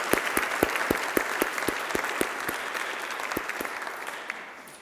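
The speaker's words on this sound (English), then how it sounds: "I'd ask you to put your hands for all those who participated" Applause at a flag unveiling for people who took part in the flag design: sharp individual claps stand out over a crowd's steady clapping, which slowly fades over a few seconds.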